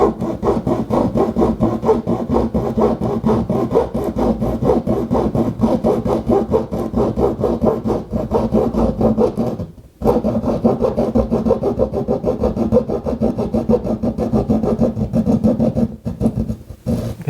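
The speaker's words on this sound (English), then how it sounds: "Take a hacksaw blade, put it in the wall, and you can cut down with the hacksaw blade the same way you do with the drywall saw." A hacksaw blade cuts down through drywall inside a wall to add an outlet, rasping in quick, loud back-and-forth strokes, with one brief break near the middle before the sawing resumes.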